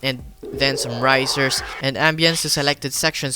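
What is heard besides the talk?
No everyday noise stands out behind the speech.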